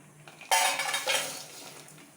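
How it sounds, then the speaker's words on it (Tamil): Jaggery is tipped into a metal pot for moong dal payasam. A sudden clattering scrape is followed by a second rattling knock, and both fade into a faint tail. "இப்போ வெள்ளத்தை கொட்டிக்கலாமுங்க."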